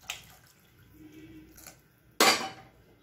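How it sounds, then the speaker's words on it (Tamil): Water poured into a pot of curry made with green cowpeas, a soft splash ending in a louder close pour near the end, with faint kitchen clinks before it. "கொஞ்சமாக தண்ணி சேர்த்துக்கலாம்."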